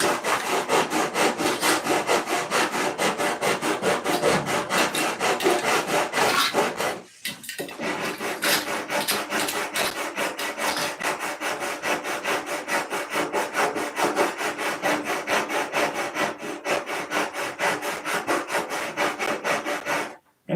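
Continuous close, loud rasping strokes of sandpaper on the wood of a P-47 model aircraft, rubbing in a fast even rhythm with one short pause midway.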